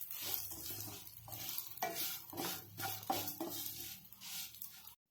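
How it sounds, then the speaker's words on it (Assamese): Vermicelli frying in hot ghee in a pan while being stirred: repeated scraping strokes of a utensil against the pan over a soft, continuous sizzle, quiet and close, with no talking. "এইখিনি ৰঙচুৱা হোৱালৈকে অকণমান সময় ভাজি থাকিব লাগিব"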